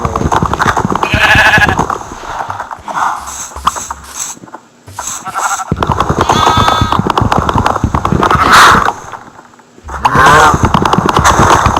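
Sheep bleating among farm animals in the video game Minecraft, several calls rising in bursts over steady game sounds and clopping, close and fairly loud with no talk.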